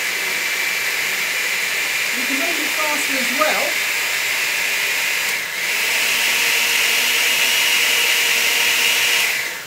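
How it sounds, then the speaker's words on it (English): A blender whirs for several seconds while making a fruit smoothie with oatmeal: a loud, steady hissing whir with a brief dip midway, as a voice talks over it. "We will press the blender for a few seconds"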